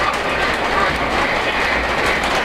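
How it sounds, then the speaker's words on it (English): A Polar Express model passenger train runs with a steady, even rumble of wheels on track, continuous and fairly close, with no voices. "that's the passenger train sounding off as it's connected"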